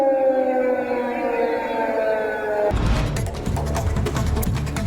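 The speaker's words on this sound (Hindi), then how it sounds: "उत्तरी इजराइल में जहां रॉकेट हमले के सायरन बज रहे हैं" Rocket attack warning sirens wail across northern Israel, a sustained layered tone that cuts off abruptly partway through and gives way to dense, rumbling noise.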